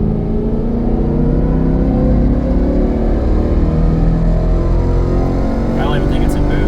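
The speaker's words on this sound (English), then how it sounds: "we're gonna do a dyno pull with the Solar Performance Throttle Controller in valet mode" A Ford Mustang engine roars steadily through a dyno pull with a throttle controller set to valet mode, a loud continuous drone that holds its level for several seconds with a faint higher whine near the end.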